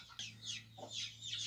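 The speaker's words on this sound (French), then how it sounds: "Dedans j'ai une poule avec des poussins" A hen with chicks clucks repeatedly in soft, rhythmic calls inside an aviary, with faint chick chirps overlapping against a low steady hum in the background.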